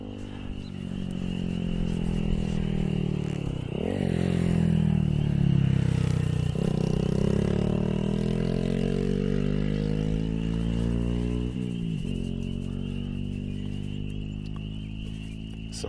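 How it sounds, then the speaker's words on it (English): A dirt bike rides past at a distance on an overcast spring day near a red barn, its engine droning steadily and rising and falling in pitch as the rider shifts and throttles. "Now here comes the dirt bike thing again."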